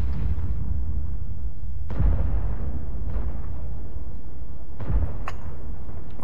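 Several heavy booming tank cannon shots in a video game, on the Prokhorovka map, about four, spaced a second or more apart over a low continuous rumble, with no talking.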